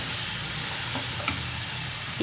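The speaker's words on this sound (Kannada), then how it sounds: "ಈಗ ಇದು ಫ್ರೆಂಡ್ಸ್ ಒಗ್ಗರಣೆಲಿ 2 ನಿಮಿಷ ಬೇಯಬೇಕು." Onion flower palya sizzling in a Kannada-style tempering of hot oil, a steady close frying hiss with faint stirring scrapes throughout and no voices.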